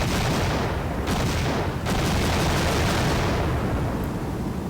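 Rapid gunfire sound effects in a Godot game overlap without cutting each other off, forming a dense, continuous roar of close shots with a few audible fresh attacks and no talking.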